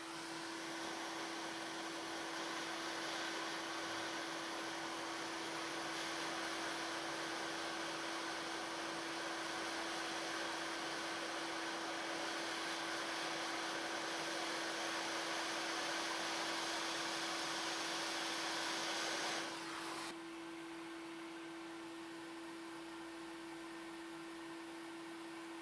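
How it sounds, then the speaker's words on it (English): A hot air soldering station blows steadily as it heats a chip on a Nintendo Switch board, giving a constant, close airflow roar with a steady tone that drops suddenly in level near the end, with no talking. "I'm going to use my hot air soldering station to heat up the chip and remove it"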